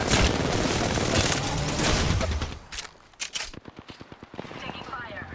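Video game firefight with dense overlapping gunfire and automatic bursts, loud and continuous at first, then thinning into sharp separate shots toward the end.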